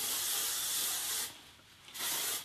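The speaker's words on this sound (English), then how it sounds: "I give it a little bit of a spray" Hairspray sprayed onto hair set in rollers: a steady high hiss for over a second, a brief pause, then a second shorter burst, close and clear with no talking.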